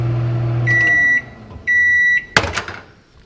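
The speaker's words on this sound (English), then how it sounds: "2 minutes in the microwave" A microwave oven hums loudly as it runs, then gives two long steady beeps, and its door clicks open with a sharp clatter at the end.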